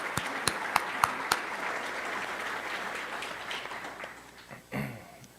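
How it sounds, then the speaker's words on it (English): Applause from the audience at an awards luncheon, a crowd clapping steadily for about five seconds with a few sharper claps up front, then tapering off with a brief thump near the end. "Let's give them all a round of applause"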